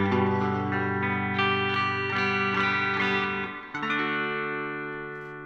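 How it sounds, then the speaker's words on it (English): Electric guitar played through a Line 6 DT25 amp with hall reverb: sustained ringing chords bloom into a wide, washy tail, then a new strum lets notes hang and slowly decay. "let's go with a hall reverb"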